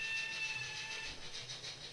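A model steam locomotive's whistle sounds as one long, steady high tone over the continuous rumble and hiss of a small engine running nearby.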